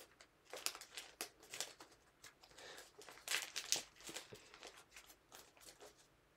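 Paper crinkling and creasing while an origami praying mantis is folded, its two front arms pressed together to lock. Close, irregular rustles and sharp crackles come in quick bursts, with no talk.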